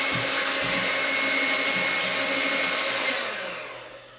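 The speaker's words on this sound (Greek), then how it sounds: "θα χτυπήσουμε με μίξερ" An electric hand mixer beats seed oil, vegetable shortening, sugar, orange juice and orange zest into a batter for melomakarona. A steady, loud motor whine runs throughout and fades slightly at the end, with no talking.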